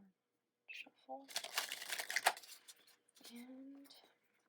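Tarot cards being shuffled by hand, a few seconds of crisp riffling and flicking bursts, with brief speech-like sounds at the edges.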